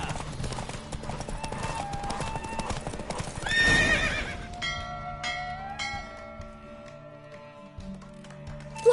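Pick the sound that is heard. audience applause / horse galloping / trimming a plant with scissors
horse galloping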